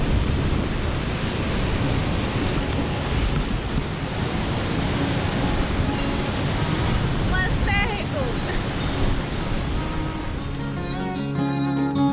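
Steady roar of the Paleshwar waterfall with spray carried on the wind, a broad continuous rush filling the whole clip at even loudness, with faint voices briefly audible near the end.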